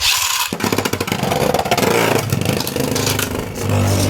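A Beyblade spinning top is ripped from its launcher with a sharp start, then whirs and clatters loudly in a continuous buzzing spin across the stadium.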